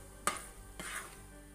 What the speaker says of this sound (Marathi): चला आता आपण हे मिक्स करून घेऊया आणि कंटिन्यूअसली आपण स्टर करत राहूया.